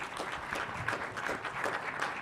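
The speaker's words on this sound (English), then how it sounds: "Let's give him a big round of applause." Audience applause at a ringman competition and junior and amateur showcase, a steady wash of clapping from a crowd that holds evenly through the moment with no talk over it.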